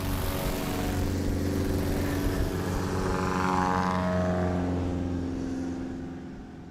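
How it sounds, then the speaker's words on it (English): STOL light aircraft rolling down the runway at a short takeoff and landing competition in Ontario, Oregon, its propeller engine droning steadily and loudly with a tonal hum before easing off toward the end. "Jeff Whiteley rolling down the runway"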